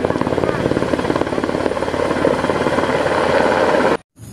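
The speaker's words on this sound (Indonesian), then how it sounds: "Ada helikopter." A toy helicopter's rotor beats steadily and loudly throughout, then cuts off abruptly near the end.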